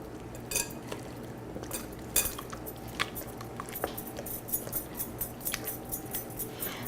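Crepe batter of flour and milk being stirred in a bowl, giving a soft continuous wet swishing with light utensil clinks against the bowl, close and fairly quiet, without speech.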